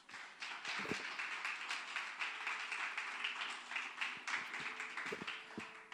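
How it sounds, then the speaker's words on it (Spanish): A church congregation claps steadily for several seconds, a dense, even patter of applause at moderate distance with no talking. "Denle un aplauso a Dios."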